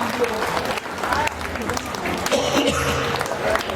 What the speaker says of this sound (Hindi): अब बजा लो ताली जिसको जिसको बजाना है।